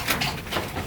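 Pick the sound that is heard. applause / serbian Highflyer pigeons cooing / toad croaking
serbian Highflyer pigeons cooing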